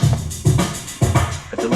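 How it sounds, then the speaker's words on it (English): Drum hits from a Maschine beat pass through a reverb effect on a KP3 Kaoss Pad, with punchy low thumps and bright snare-like bursts repeating in a loose rhythm, each leaving a short wash of tail behind it. "A reverb."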